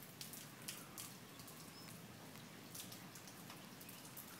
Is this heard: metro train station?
no